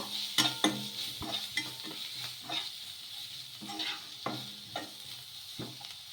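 A spoon stirs chili powder through food in a hot pan, producing quiet, close irregular scrapes and taps over a soft background sizzle, with no talking.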